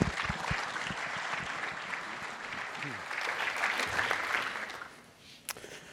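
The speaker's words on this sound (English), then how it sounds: "Let's give him a round of applause." Sustained audience applause for a conference speaker, a dense steady wash of many hands clapping for about five seconds before it fades, with a few voices mixed in.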